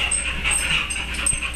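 A pet dog whimpers and whines softly in a backyard while neighbors set off fireworks nearby, the faint, uneasy cries continuing steadily over low background noise.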